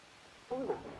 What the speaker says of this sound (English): That kind of sounded like a little moaning.